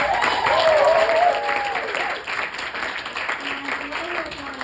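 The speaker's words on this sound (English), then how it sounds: "So big round of applause." Audience applause at a vaudeville variety show for its co-producer, a sustained wash of clapping that fades slightly, with voices speaking over it.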